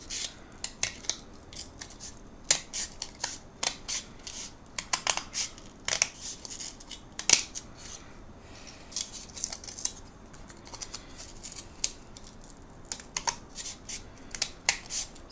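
Scissors trim a small sliver off a part during assembly, giving a long run of sharp, close snips and clicks at an irregular pace with quiet pauses between cuts.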